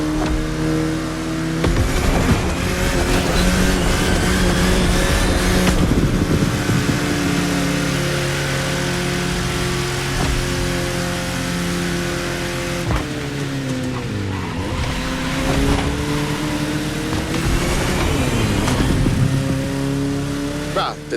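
A car cruising in the racing game The Crew Motorfest, a steady engine drone with rising and falling revs and gear shifts, loud and continuous throughout, with occasional tire noise.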